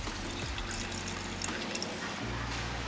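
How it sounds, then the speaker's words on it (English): Water pours into a jar holding miso sauce ingredients, a steady low trickle of liquid running through the whole stretch against faint kitchen background noise. "And I'm also gonna put some water in there too."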